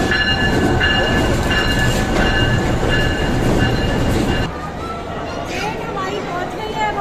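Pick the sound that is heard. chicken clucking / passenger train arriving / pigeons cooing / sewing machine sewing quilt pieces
passenger train arriving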